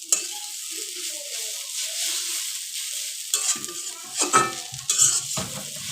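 Jute leaves fry in a pan with a continuous loud sizzle, joined toward the end by clattering stirs and the knock of a utensil against the pan.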